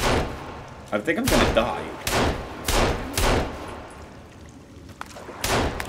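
Gunfire in the survival video game Sons of the Forest: several loud, sharp shots spaced roughly a second apart, each with a quick decay, under a man's anxious speech.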